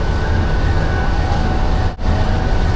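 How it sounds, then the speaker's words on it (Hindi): A 2000 HP locomotive hauling the Jaffar Express from Lahore to Sibi, a loud constant low rumble and rolling clatter heard close by, with one very brief dropout partway through. "2000 HP का एक बेहतरीन सा लोकोमोटिव जो कि लाहौर से सिब्बी तक जाफर एक्सप्रेस के साथ जाएगा"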